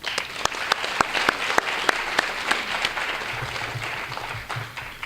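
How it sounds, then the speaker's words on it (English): An audience at a student awards ceremony applauds, with dense continuous clapping from many people and a few louder individual claps standing out, sustained throughout. "Please join me in a round of applause to celebrate this tremendous gift."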